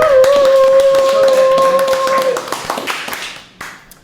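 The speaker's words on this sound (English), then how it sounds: "Let's all clap for him." A small group clapping to welcome a podcast guest in a studio, brisk scattered claps over a held tone that fade out into a few last isolated claps.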